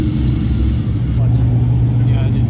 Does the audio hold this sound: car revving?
yes